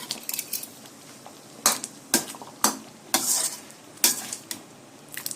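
A spoon scrapes and knocks against a pan of palak tofu gravy in irregular strokes, with a soft sizzle of simmering food underneath.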